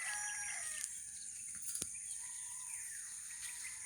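A rooster crows at an early-morning farm visit, its drawn-out call rising and falling clearly above a steady insect-like background hum, with a brief sharp knock midway.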